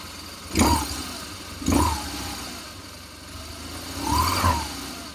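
A 2009 BMW R1200 GS Adventure motorcycle engine idles and is revved in three short blips, each a sharp rise and fall above the steady idle, heard close up.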